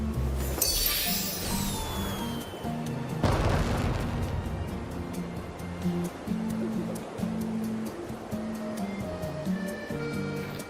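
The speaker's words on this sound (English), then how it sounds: "What a beautiful firework." Fireworks go off in the video game Infinity Nikki: a whistling launch leads into one big booming burst, then fainter crackles, all over steady in-game music.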